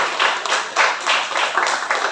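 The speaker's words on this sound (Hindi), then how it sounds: "जोरदार तालियां उनके लिए, सुजाता के लिए।" An audience claps in a continuous burst of applause, with many hands beating in quick, uneven rhythm at close range and no voices on top.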